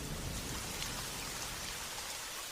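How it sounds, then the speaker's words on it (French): Heavy rain pours down steadily in a dense, continuous hiss with drumming lower tones, loud and unbroken throughout, with no voices; part of a stage comedy, just after thunder rumbles outside. "L'instant d'après, la pluie se met à tomber violemment."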